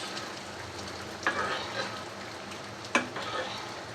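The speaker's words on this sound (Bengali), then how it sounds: "ডিম ভাজা হচ্ছে" Egg frying in a pan for a home breakfast, a steady soft sizzle with two brief sharper crackles partway through, no talking.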